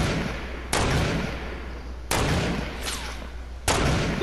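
Sniper shots ring out in the video game Fortnite, three loud, sharp cracks spaced a second or more apart, each trailing off in a short echoing decay.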